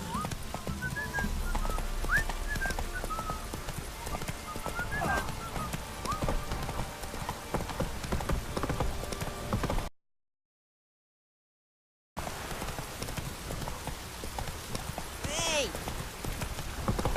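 Horse hooves clip-clopping at a steady gallop in The Witcher 3, a continuous rhythmic patter with occasional whistles and chirps. A short silent gap interrupts it before the hoofbeats resume.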